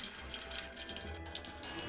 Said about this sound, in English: And pours a cup of tea.